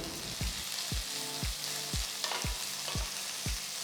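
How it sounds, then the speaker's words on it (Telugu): Sliced onion and chopped green chili fry in oil for egg masala curry, with a continuous close sizzle and soft, regular thumps of stirring about twice a second. "మూడు పొడవగా కట్ చేసుకున్న పెద్ద ఉల్లిపాయ ముక్కలు సన్నగా తరిగిన ఒక పెద్ద పచ్చిమిరకాయ వేసి వేయించుకోవాలి"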